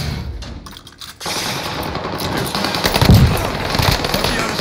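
Rapid automatic gunfire in Call of Duty on Rebirth Island, a sustained dense burst that starts abruptly after a quieter moment and keeps rattling loud and close, with other shots and game noise mixed in.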